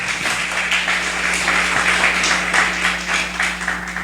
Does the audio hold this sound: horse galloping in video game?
no